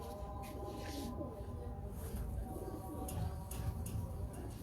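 Soft, repeated cooing of pure-breed pigeons held in a Karachi loft, faint and fairly close, with low background rumble and occasional ticking sounds.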